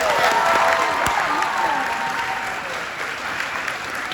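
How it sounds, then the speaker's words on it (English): A live theatre audience at a Washington D.C. comedy-style show breaks into a big round of applause, thick sustained clapping from a crowd with faint cheers mixed in, gradually settling lower. "Huge round of applause for JS."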